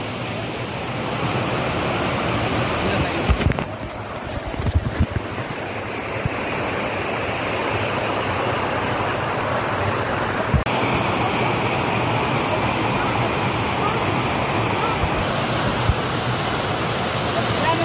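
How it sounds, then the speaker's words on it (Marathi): A strong stream rushes through a forest in a steady, loud broadband roar of churning water. Brief handling bumps interrupt it early on, and it continues unbroken to the end with no voices. "पाण्याचं एवढं फ्लो आहे ना, की हवा येतं त्या अंगावर पूर्ण उडवते सगळं पाणी"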